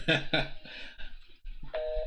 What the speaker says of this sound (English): let me make a quick phone call here